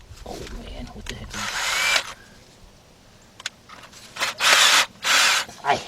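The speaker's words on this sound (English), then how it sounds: "I'll drill a little bit more." A power drill drilling into metal whines in short bursts, one longer run followed by a few quick pulses, close and loud, with faint handling noise between.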